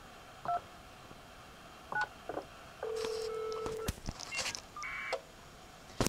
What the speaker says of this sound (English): So I'm going to go ahead and call myself, give myself a call waiting from this phone.